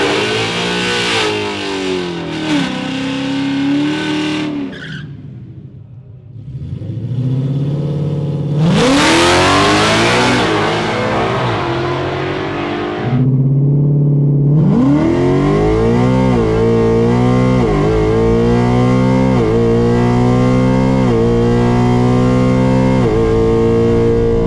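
A drag racing car launching hard and accelerating down the track, its engine screaming upward through several gear changes with brief drops between shifts, loud and close throughout.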